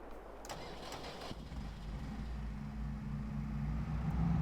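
A tractor engine starting on a farm, a brief cranking catch followed by the engine settling into a steady low idle that grows slightly louder, close by and without talk.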